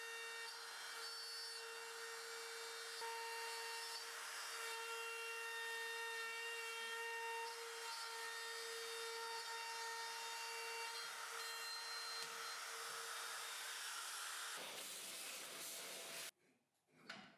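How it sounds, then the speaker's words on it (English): A router mills wood guided by an adjustable router template, its motor a steady high whine with a cutting hiss that runs unbroken at close range for about fifteen seconds, then cuts off. "stop the router from tilting while we're milling"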